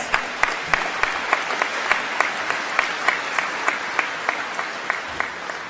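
A crowd at a 2024 commencement afternoon ceremony claps for itself, fairly distant applause with individual sharp claps standing out at a steady rhythm across several seconds, no voices on top.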